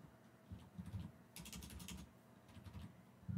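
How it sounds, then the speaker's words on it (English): Quiet typing on a computer keyboard: a brief flurry of light key clicks, faint and close, with low background hum and no talk. "let's try to type this function."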